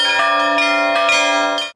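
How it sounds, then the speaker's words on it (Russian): Orthodox church bells, not yet installed, ring out loudly in a quick series of clanging strikes, rich overtones ringing on between hits before the sound cuts off. "пока колокола устанавливать не будут, но оценить звучание и позвонить смогли все желающие"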